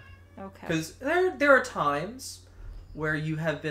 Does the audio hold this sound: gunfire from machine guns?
no